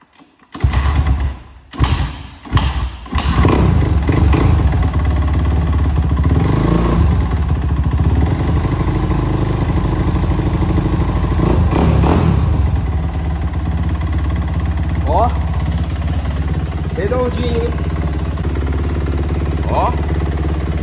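A 2008 Suzuki RMZ 250 dirt bike being kicked over with a few sputtering thumps before catching, then running steadily with a loud close buzzing engine that settles into a rough idle.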